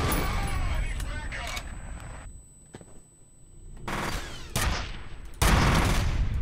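Gunfire from a weapon in F.E.A.R., sharp loud shots in several separate bursts with a quieter stretch in the middle and a strong burst at the end, with a voice talking over the action.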